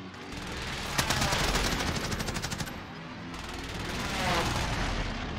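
Airstrike in Call of Duty Warzone: a sharp impact followed by a rapid rattling burst of blasts, then a second rolling wave of explosions later, loud and close with game ambience underneath.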